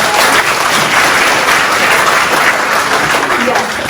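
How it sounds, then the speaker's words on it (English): A room of people at a Microsoft Learn Student Ambassadors information session breaks into sustained, dense applause that holds steady for several seconds before easing off at the end. "Can we please give a round of applause for them?"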